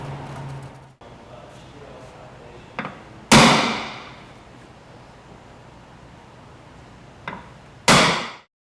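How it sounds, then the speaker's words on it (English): A hammer strikes a center punch on marked hole spots on tape laid over a vehicle's body while a Smittybilt XRC corner is fitted: two sharp, loud metallic hits, each with a lighter tap just before it, several seconds apart in a quiet room. "after we have used the center punch on all our marked holes"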